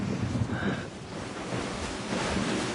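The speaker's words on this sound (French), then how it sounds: "le vent souffle très très fort" Strong wind gusting steadily across a Paris rooftop before a base jump, a loud broadband roar with buffeting rumble on the microphone and no voices.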